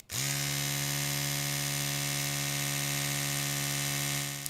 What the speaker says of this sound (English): And an electric toothbrush for reference.